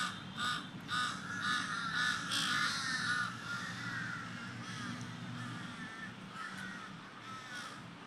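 Several crows cawing outdoors, a string of harsh, repeated calls, some overlapping, fairly close at first and then fading to fainter caws over a low background hum.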